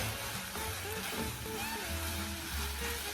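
Soft, steady sizzling of meat browning in a pan, close by, with faint clinks and low background hum.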